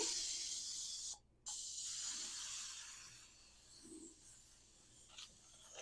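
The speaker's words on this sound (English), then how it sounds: "Then you're going to spray the tops with a little bit of cooking spray." A can of cooking spray gives a steady, faint aerosol hiss almost continuously, briefly cutting out once, with soft rustling underneath.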